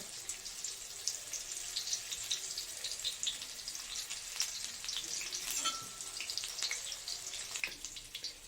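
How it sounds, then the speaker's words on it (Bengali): Onions sizzle quietly in a pan, a soft, continuous crackle with small spits and pops, heard close and alone without talk. "পেঁয়াজটা ভাজা হয়ে গেছে"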